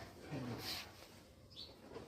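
A pigeon gives a brief, faint, low coo near the start against quiet outdoor background noise, with no clear speech.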